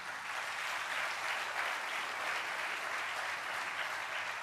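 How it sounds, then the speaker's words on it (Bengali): Applause from an audience at a team meeting, a dense, even clapping that continues steadily throughout, close and without talk. "তাদের সবাইয়ের জন্য একটা হাততালি হয়ে যাক।"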